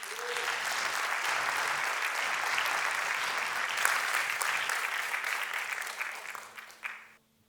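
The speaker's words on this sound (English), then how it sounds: "Please welcome him with a big and loud applause." A school graduation audience gives a teacher a long, loud round of applause, a dense sustained clapping that tapers and stops near the end, with no talking over it.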